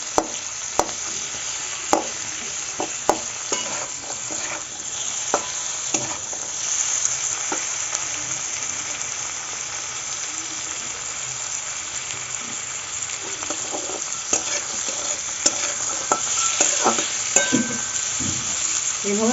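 Cashews fry lightly in a pan, giving a continuous close sizzle broken by sharp clicks and scrapes of stirring, steady throughout with no one talking.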